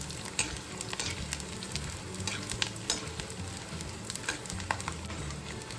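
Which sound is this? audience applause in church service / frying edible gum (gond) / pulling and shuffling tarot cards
frying edible gum (gond)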